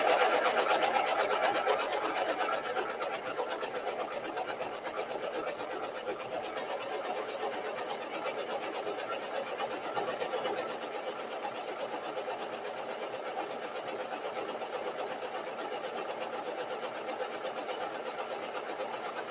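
A double cover stitch sewing machine runs steadily through fabric while hemming a trench coat, a continuous close mechanical whir that holds at an even pace throughout with no pauses.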